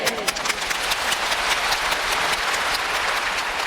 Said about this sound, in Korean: 지금은 여러분 박수를 치지만